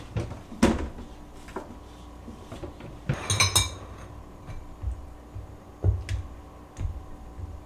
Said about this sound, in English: I'm just going to mix this into a bowl with a little bit of vanilla extract.